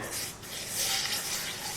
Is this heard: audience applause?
no